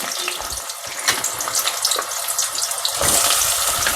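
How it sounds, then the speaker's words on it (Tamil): Chopped onion hisses in hot oil in a kadai for masala chicken, with a loud close sizzle and watery crackle that swells near the end. "ஒரு முழு வெங்காயத்தை கட் பண்ணி வச்சுருக்கேன், அதை போட்டுருவோம்"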